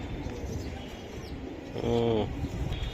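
Giribaz pigeons coo, a low bubbling coo rising briefly from a steady murmur of nearby birds, close and moderately loud.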